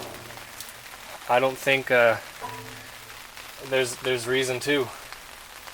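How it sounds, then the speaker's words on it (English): Steady rain patters on a surface outdoors beside a 1958 Studebaker Commander under repair, a continuous wash of drops under a voice speaking in two short bursts. "I put the plugs back because it's raining"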